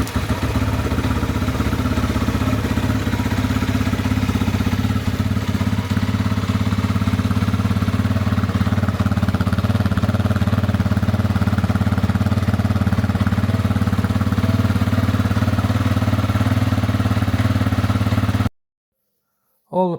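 A dirt bike's engine runs at a steady idle, a low, even thrum with a slight mechanical clatter that holds for about eighteen seconds before cutting off abruptly.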